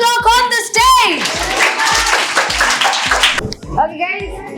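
Audience clapping at a felicitation ceremony, a dense steady wash of many hands that runs about three and a half seconds and then breaks off abruptly, with a voice and other chatter heard at the start and the end.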